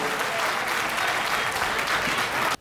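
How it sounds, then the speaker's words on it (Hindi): Loud, dense applause from a stage show audience greeting a married couple, Rasik Gupta from Delhi and Baljeet Kaur Tanha from Faridabad, sustained and steady before stopping abruptly. "एक बार जोरदार तालियों के साथ इन दोनों का"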